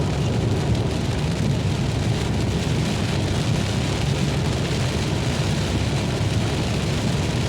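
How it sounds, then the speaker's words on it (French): A loud, unbroken roar of heavy rain drums steadily on a moving car over a low rumble, sounding close and enveloping without any pauses. "ce qui me fatigue dans la pluie, c'est le bruit que ça fait"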